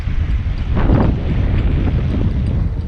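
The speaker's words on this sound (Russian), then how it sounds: "Ветер, блин." Gusty wind rushes across a microphone beside a fishing lake, a steady low roar with a stronger swell near the one-second mark, no voices present.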